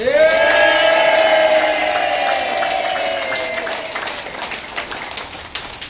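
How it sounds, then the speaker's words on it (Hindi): A crowd at a testimony gathering gives a round of applause, opening with a rising shout and settling into steady, dense clapping that slowly fades. "एक बार जोरदार ताली हो जाए।"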